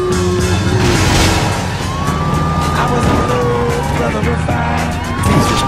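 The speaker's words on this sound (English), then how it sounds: "How about using that siren" A police siren wails continuously through traffic noise in the PC video game True Crime: New York City, loud and close, rising and falling with engine hum and voices underneath.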